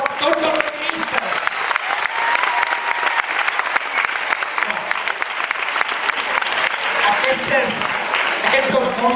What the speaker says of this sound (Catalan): Un fort aplaudiment per tots els pianistes.